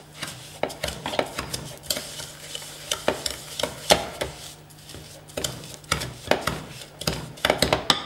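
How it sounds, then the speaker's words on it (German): Butter and breadcrumbs being stirred together for a crust on poached salmon, heard as a steady run of soft scraping and tapping from a spoon against a bowl, close and fairly quiet, with no talking. "Wir haben Butter und Paniermehl zusammengetan, das wir ganz miteinander vermischen."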